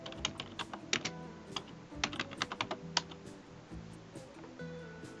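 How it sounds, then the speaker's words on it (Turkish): Someone types an IP number on a computer keyboard: quiet, irregular clicking keystrokes in quick bursts, close by, with no voices. "Cihazımın IP numarasını yazıyorum."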